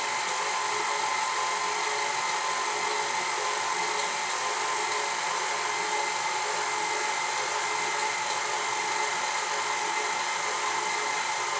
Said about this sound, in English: And I just want to blend it.